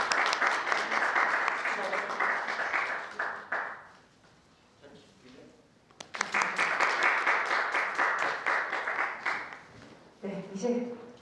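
Loud audience applause at a youth smoking-prevention policy research club competition award ceremony, two sustained bursts of clapping separated by a brief lull with quiet talk, the second burst tapering into murmured voices at the end.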